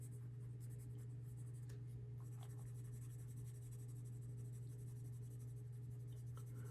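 Pencil lightly shading a geologic cartoon on paper, a continuous soft, even scratching that stays close and quiet over a constant low electrical hum.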